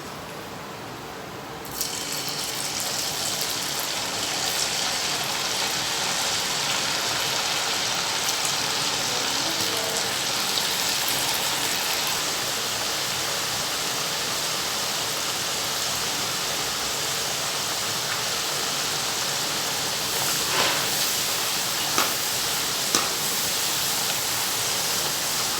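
Cut potato French fries deep frying in hot oil, a dense, steady sizzling hiss that starts abruptly as they go in and then bubbles on evenly, with a few louder crackles near the end.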